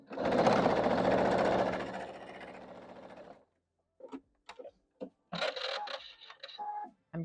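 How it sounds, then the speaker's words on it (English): A sewing machine stitching quilt pieces for a basket wall hanging runs in a fast, steady burst for about three seconds, then stops, followed by short clicks and brief handling noises close by. "I'm going to sew a couple of these together."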